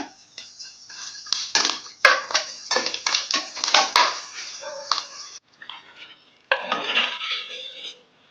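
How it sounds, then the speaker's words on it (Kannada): Dry red chillies fry in hot ghee in a pan and are stirred: quick, rhythmic scraping and clinking of a spatula against metal, loud and close, with short pauses between bursts and a final flurry of stirring. "ಸ್ವಲ್ಪ ಒಣಮೆಣಸನ್ನು ಹಾಕೊಂಡು ಫ್ರೈ ಮಾಡ್ಕೊಳ್ಳೋಣ"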